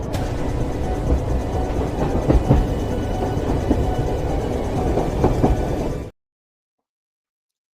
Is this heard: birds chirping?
no